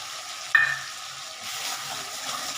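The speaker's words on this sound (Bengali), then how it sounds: "এটার মধ্যে আমি একটু কাঁচা লঙ্কাগুলো আস্তে আস্তে দিয়ে দেবো কয়েকটা কয়েকটা কাঁচা লঙ্কা আমি আস্তে আস্তে দিয়ে দিচ্ছি" Green chillies drop into a pan of sizzling fried spice paste for a vegetarian raw-banana kofta curry, a sharp hiss flaring up at the moment they land, then a steady quieter frying sizzle with no talk.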